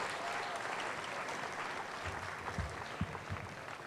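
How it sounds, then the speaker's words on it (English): Audience applause at the 78th Queen of Candles pageant on July 4th, a moderately quiet, steady wash of clapping from a crowd, with a few louder claps near the end and faint voices mixed in. "Let's have one more round of applause for our MC, Miss Liberty Bell"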